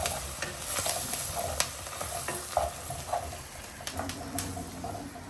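Ingredients for a shark fish curry are sautéed in a pan, making a low, steady sizzle broken by frequent scraping strokes and light clicks of the stirring spoon.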